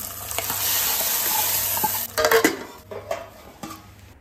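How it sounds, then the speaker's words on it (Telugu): Spices crackle and sizzle loudly in hot oil while tempering dal, a steady hiss for about two seconds, then quieter sizzling broken by several clinks and scrapes of stirring in the pan. "ఇక్కడైతే పప్పుకి పోపు కూడా పెట్టేసుకుంటున్నాను అనమాట"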